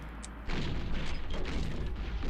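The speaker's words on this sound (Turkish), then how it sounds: "Bir top atışı yapalım." Artillery shot in the strategy video game Panzer General II, a sudden loud boom that cuts in and rolls on as a dense, sustained rumble.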